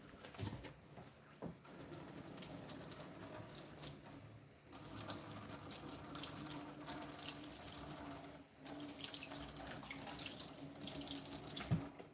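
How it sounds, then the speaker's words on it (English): Tap water runs steadily into a sink while a carbon steel Mora knife is rinsed, a continuous close splashing stream with brief dips in flow. "Let me go rinse this real quick, stop that reaction."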